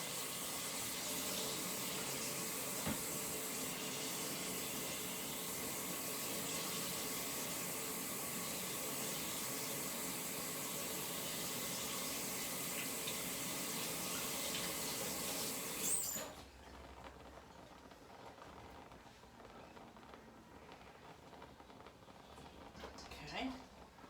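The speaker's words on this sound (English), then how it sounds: "I need to wash my hands real quick." Kitchen tap running into a sink while hands are washed during cabbage roll prep, a steady loud rush of water that stops abruptly about two-thirds through, leaving quiet room noise and small clatters.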